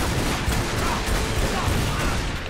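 Gunfire in Tomb Raider Underworld, dense rapid shots forming a continuous loud burst for the whole stretch, close and unbroken, with no voices over it.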